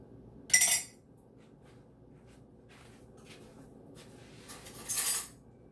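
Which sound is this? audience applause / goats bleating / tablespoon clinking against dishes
tablespoon clinking against dishes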